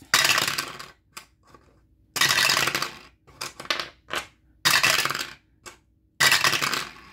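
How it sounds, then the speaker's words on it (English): Dice rattle and tumble across a game board in several separate bursts of clattering noise, with quiet pauses between rolls and no talking. "We rolling pairs of dice to get to paradise."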